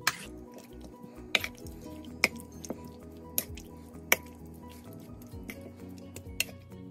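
Chicken legs are mixed with cayenne pepper, chili powder and smoked paprika, producing wet squishes and sharp, irregular clicks against a bowl, close up and without talk.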